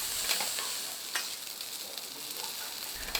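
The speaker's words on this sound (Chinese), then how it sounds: "最後和多種葷素食同炒" Steady crackling sizzle of insects, including fried scorpion tails, stir-frying with meat and vegetables in a hot pan, with a few scraping stirs of a utensil, close and continuous.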